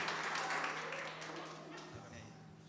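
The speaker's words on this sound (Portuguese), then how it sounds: "Você pode aplaudir o Senhor mais uma vez?" A church congregation's applause at a special anniversary service sounds faint and distant, a soft, continuous patter that gradually fades away.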